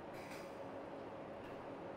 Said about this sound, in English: so that's the train on the tracks